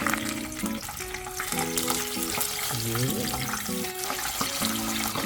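Pig's tail frying in hot oil for crispy lechon: constant loud crackling and spattering close by, with tonal kitchen sounds layered on top.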